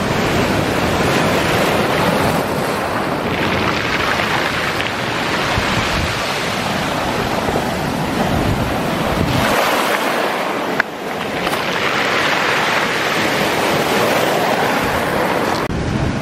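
Ocean surf washes steadily over rocks at Hither Hills, Montauk, New York, a loud continuous roar with a brief lull partway through and some wind buffeting.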